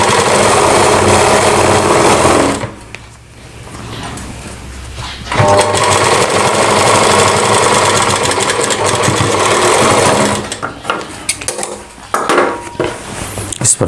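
An electric sewing machine stitches a lehenga seam in long, loud, steady runs broken by brief pauses, with a faint clatter of fabric handling and no talking.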